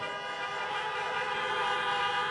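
Car horns honk continuously at an outdoor presidential campaign rally in Pennsylvania, a sustained layered blare of many vehicles from a crowd of parked cars, steady and moderately loud without talk.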